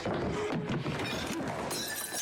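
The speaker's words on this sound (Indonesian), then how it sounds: "berebut gelas teh poci hingga gelasnya dipecahkan oleh Chris" A tea glass shatters, loud and close, with breaking glass fragments scattering over a couple of seconds.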